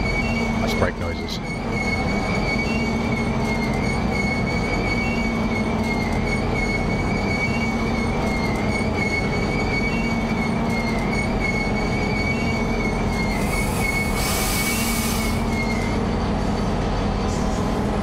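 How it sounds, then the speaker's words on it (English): An Amtrak passenger train slowing on its approach to Rocky near Denver, with a steady high brake squeal held over loud continuous rumble and wheel noise throughout, swelling briefly toward the end. "Nice brake noises."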